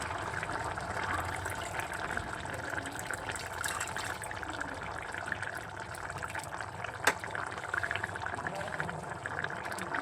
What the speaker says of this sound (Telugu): ఇప్పుడు చింతపండు పులుసు అనేది యాడ్ చేసుకుందాం.